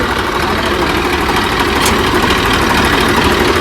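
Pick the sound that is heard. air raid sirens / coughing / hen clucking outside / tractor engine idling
tractor engine idling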